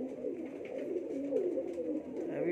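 Steady low cooing from rooftop pigeons, a Teddy pigeon among them, in soft overlapping rolling calls that continue close by without any voices.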